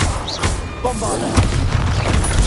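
Bombarda blasting-spell explosion in a Harry Potter video game, a dense, loud booming crash that fills the whole stretch with rumbling debris-like noise and no clear pauses.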